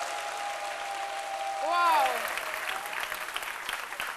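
A studio audience at a midday TV show applauds steadily, with a voice exclaiming over the clapping as it swells briefly then continues.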